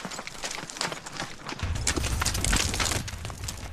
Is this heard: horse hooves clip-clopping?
yes